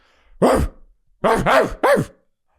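A person imitates a dog barking with three or four throaty, close bark-like yelps, one first and then a quick cluster, loud against silence.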